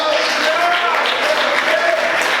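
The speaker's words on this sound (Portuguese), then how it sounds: "Você pode aplaudir o Senhor essa noite" Congregation applauding the Lord during a Pentecostal church service, a steady wash of many hands clapping at once, sustained and fairly loud, with a voice speaking over it.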